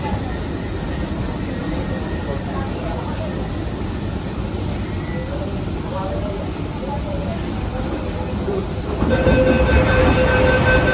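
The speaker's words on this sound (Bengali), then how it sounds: "ট্রেন এখন হাওড়া মেট্রো স্টেশনে ঢুকে পড়েছে।" A Kolkata metro train pulls into Howrah metro station underground, a steady loud rumble and rattle of wheels and carriages with a faint tonal whine, swelling slightly near the end as it brakes; a voice talks over it.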